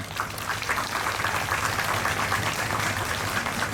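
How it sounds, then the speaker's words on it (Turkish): A crowd at a July 15 National Unity Day commemoration in Şile, Turkey, applauds the district chairmen. The clapping is a dense, even wash of many hands, sustained and unbroken throughout, with no speech over it. "Ben ilçe başkanlarımıza bir alkış alabilir miyim lütfen?"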